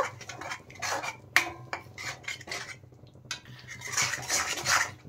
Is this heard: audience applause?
no